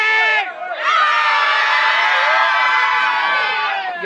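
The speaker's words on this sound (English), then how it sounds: "Everybody scream!" A house party crowd screams and cheers in one loud, sustained roar that dips briefly near the start, then swells and holds at full volume with many shrill voices whooping together.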